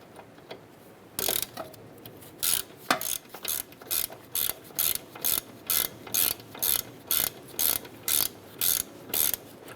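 A ratchet tightens a bolt on the suspension knuckle of a 2008–2012 Honda Accord, with about twenty crisp, evenly spaced clicking strokes in a steady rhythm after a few looser ticks.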